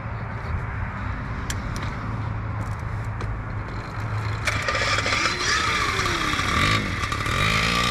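A small Honda Motocompo scooter engine buzzes at idle, then rises into a louder, higher-pitched running whine close by, with a few brief voice sounds.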